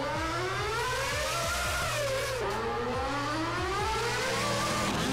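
Heavy GTA V street traffic: many cars pass close by with rising and falling engine pitches, revving and a bit of tire squeal over a steady low rumble, loud and continuous with no talking.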